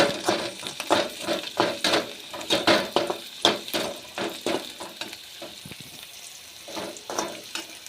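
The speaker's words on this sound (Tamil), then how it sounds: "இது வந்து எண்ணெயில் நல்லா பொரியட்டோம்னா பச்சை வடை வரும்" Ginger fries in oil for a thuvaiyal, its crackling sizzle broken by repeated scraping stir strokes in an uneven rhythm, fairly close and moderately loud, with no speech.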